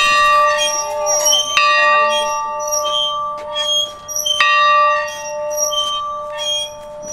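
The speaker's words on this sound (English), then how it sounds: "The emergency bell, the dinner bell, the hey, we need you at the house bell." A bright metal farm bell at a Cajun home rings repeatedly in uneven strikes, each clang leaving a long shimmering tone that overlaps the next, fairly close and loud.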